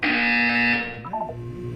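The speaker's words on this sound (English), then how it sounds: "When you hear the buzzer, look up at the ceiling." A loud, steady electronic buzzer tone from a video game sounds for most of a second, then gives way to a lower synthetic voice-like tonal passage.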